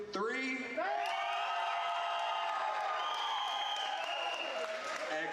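Parents of graduates cheering and applauding at a high school graduation ceremony, a loud sustained roar of clapping with whoops and shouted voices rising together, filling a large hall.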